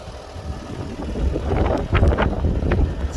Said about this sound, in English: Oops, sorry about that wind.